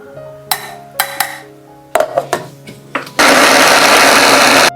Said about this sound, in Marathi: आता कटाची आमटी होत आहे तोपर्यंत ही पुरण मिक्सरमधने वाटून घेऊ.